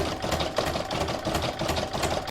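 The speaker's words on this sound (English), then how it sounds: "I'm going to pop it into my machine and stitch round number 4, which is going to do the zigzagging all around the outlines." A home embroidery machine stitches a zigzag outline around an appliqué Santa design in the hoop, a steady rapid mechanical whirr with fast needle pulses, close and continuous without talk.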